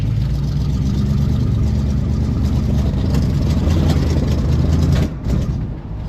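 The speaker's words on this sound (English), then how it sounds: "Just listening to that V8." Pontiac Grand LeMans V8 engine running loud and close with a steady deep rumble that dips briefly near the end.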